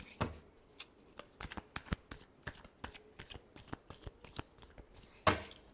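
A deck of tarot cards is shuffled up close, a string of sharp riffling bursts and soft slaps in an uneven rhythm, ending with one louder final riffle.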